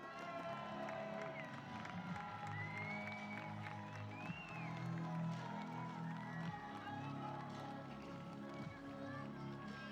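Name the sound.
stadium crowd cheering and making noise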